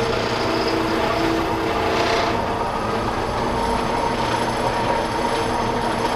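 Metal lathe running in its first back gear range while a bushing is made, a steady loud mechanical drone with gear whine that holds constant throughout, no voices.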